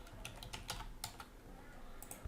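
Quick, uneven key taps on a computer keyboard while entering text into a WordPress settings field, close and fairly quiet, with no speech.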